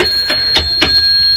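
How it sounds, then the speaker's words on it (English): A bell on a radio studio desk is struck a few times in quick succession, bright ringing dings close to the microphone, with a steady electronic tone underneath and no talk. "Hit your bell again."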